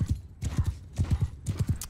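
Cavalry horses charging in Mount & Blade II: Bannerlord, a fast galloping clip-clop of hooves in quick repeated bursts, close and fairly loud, with no voices.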